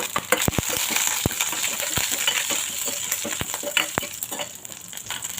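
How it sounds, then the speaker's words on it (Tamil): Mustard seeds, cumin and chana dal frying in hot oil for masala dosa, a constant sizzle broken by sharp, irregular pops and crackles of seeds bursting close by, with no voices. "கடுகு போட்டுக்கலாம். கூடவே சீரகம், கடலைப்பருப்பு கொஞ்சம் போட்டு சேர்க்கணும்"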